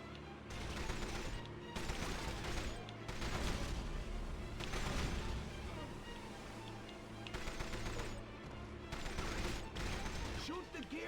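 Gunfire in the video game 007 From Russia With Love: dense, continuous shooting and impacts blended with loud game music and effects, steady and busy throughout with no clear pauses.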